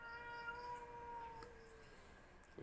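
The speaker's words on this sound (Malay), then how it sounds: "Kucing ni tak lari lagi." A cat meows in a drawn-out, wavering call lasting about a second and a half, followed by a softer trailing cry, quiet and fairly close against a faint background hiss with no talking.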